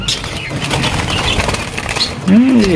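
Diamond doves flap and flutter nearby in quick bursts of wingbeats at a bird farm, then a low, throaty dove coo rises clearly at the end.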